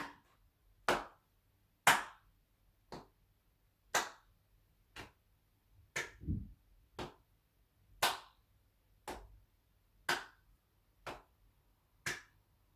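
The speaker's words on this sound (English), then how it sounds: "When you're ready, tap and clap." Single crisp hand claps ring out one at a time about once a second during a seated chair-based warm-up, each sharp and isolated against near silence, with a softer thump among them.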